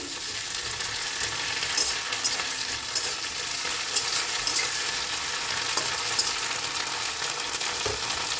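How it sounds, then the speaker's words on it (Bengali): Ground ginger, garlic and green chili paste sizzles and crackles with onion in hot oil in a wok, a steady close frying hiss lasting throughout with light stirring scrapes and no talking. "ভালো করে মশলাটাকে ভেজে নেবো, নাহলে আদা রসুনের গন্ধটা যাবে না।"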